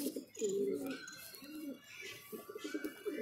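Pigeon coos softly nearby in repeated low throaty phrases, several rolling calls spaced across a quiet moment.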